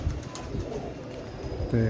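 Soft pigeon cooing murmurs nearby, low and continuous, with a voice beginning to speak right at the end.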